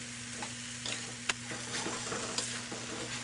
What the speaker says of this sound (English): You want to cook this for a couple of minutes to ensure that the rice is nicely coated with the spice mixture and the vegetables